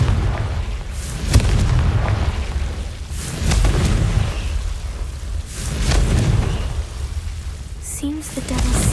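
Confringo fire spell blasts in Hogwarts Legacy: several deep booming bursts spaced a couple of seconds apart over a rumbling, crackling bed, fairly loud and close.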